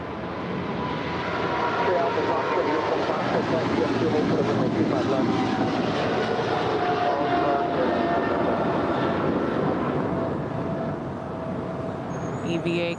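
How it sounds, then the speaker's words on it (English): An EVA Air cargo Boeing 777 rolls down runway 25 left at LAX for takeoff, a steady broad jet roar holding loud and constant throughout, with voices speaking over it. "do the EVA cargo 777, rolling down 25 left"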